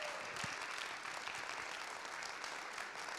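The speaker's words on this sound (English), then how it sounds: "More round of applause for the Echo Ringers." At a handbell choir concert, the audience claps in a steady, even wash of applause that sounds faint and distant throughout.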